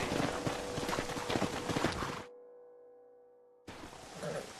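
Horse hooves clip-clopping in the video game Red Dead Redemption, a steady rapid run of hoofbeats for about two seconds, then a sudden cut to near silence before game ambience resumes.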